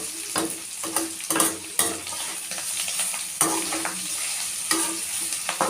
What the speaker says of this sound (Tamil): எண்ணெய் ஊற்றி கடுகு உளுத்தம்பருப்பு போட்டு தாளிச்சிட்டு